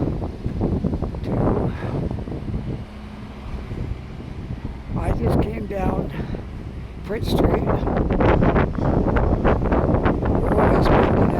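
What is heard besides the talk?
strong wind by the water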